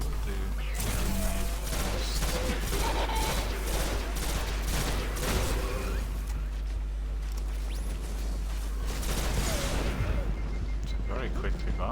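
A grenade blast and heavy gunfire in Destiny, a loud, continuous battle din of rapid shots and booming impacts throughout, with a voice talking over it at times.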